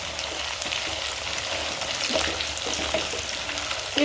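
Onions with ginger-garlic paste fry in a pan, a steady loud sizzle with occasional stirring scrapes, and no voices.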